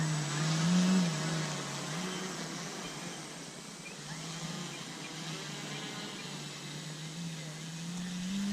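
An FMS A6M Zero RC model plane's electric motor whirs steadily at a moderate distance during takeoff, with faint voices nearby.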